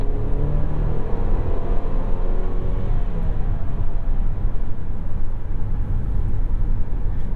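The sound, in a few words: tire road noise in 2021 Mercedes-Benz GLC300 4MATIC cabin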